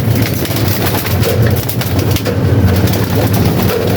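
Breeder stock pigeons cooing in a loft, a steady low murmur of calls running through the whole stretch at moderate loudness, with no talking.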